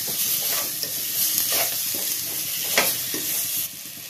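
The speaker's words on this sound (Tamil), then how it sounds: "இதே நல்லா வதக்குங்க, வதங்கட்டும்." Brinjal sautés in a hot pan for dry fish curry, a loud continuous sizzle with repeated scraping strokes of a spatula stirring through it, close up and without speech.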